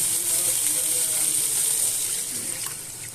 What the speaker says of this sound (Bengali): আলুটা আমার কষানো শেষ হয়ে গেছে এখন আমি জল দিয়ে দিচ্ছি